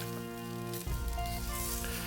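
Shashlik meat chunks on metal skewers sizzle over a grill, a steady close crackling hiss that swells slightly after a brief shift partway through.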